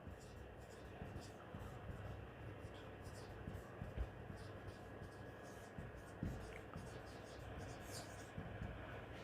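Faint marker or chalk scratching on a board during a class 10 electricity lesson, soft irregular strokes with occasional taps, quiet and distant against low background noise.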